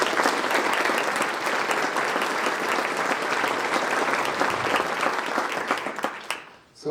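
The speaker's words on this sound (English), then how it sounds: "Let's give him another round of applause" An audience at a chamber of commerce awards luncheon gives a sustained round of applause, loud and dense clapping that runs steadily before tapering off and stopping near the end.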